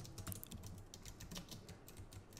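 Rapid keystrokes on a computer keyboard while a title is typed in Photoshop, a steady close run of light clicks with no talking.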